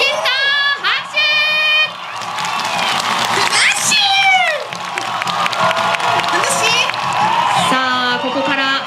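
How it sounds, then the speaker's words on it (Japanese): An audience at a Funassyi fan event inside TOHO Cinemas Lalaport Funabashi Screen 4 claps and cheers loudly, with children's high shouts and whoops rising over the steady crowd noise the whole time. "拍手！"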